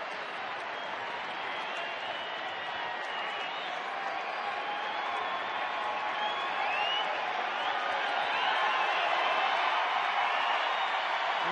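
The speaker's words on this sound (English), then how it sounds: "This big crowd getting into it" A big crowd of about 37,000 baseball fans at Wrigley Field, Chicago, cheers and roars steadily and loudly on a full count, swelling slightly toward the end with no voices rising above it.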